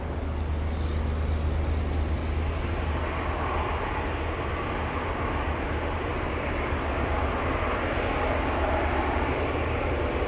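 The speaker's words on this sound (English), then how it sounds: "Let's go for the 747. Starting up." A UPS Boeing 747 starts its engines at Anchorage airport in windy weather, giving a broad, steady roar and rumble that stays even and loud throughout with no speech over it.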